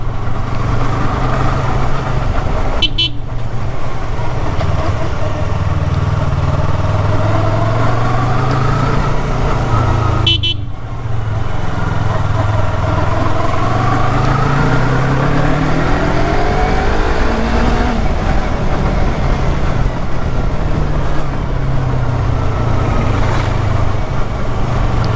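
A custom-painted Yamaha YZF R3 motorcycle engine revs loudly and close by, its pitch repeatedly climbing and falling over a steady idle, with two sharp clicks early on.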